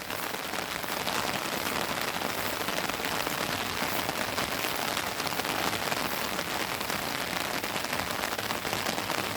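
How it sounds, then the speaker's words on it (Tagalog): Rain falling on a farm with rambutan and other fruit trees, a steady dense hiss of drops pattering on surfaces, continuous and fairly loud with no talk. "Sensya na kayo mga loves, umuulan."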